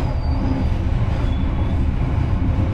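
Argo Bromo Anggrek luxury passenger train pulling out of Bojonegoro station, a loud steady low rumble of wheels and carriages with a faint high squeal.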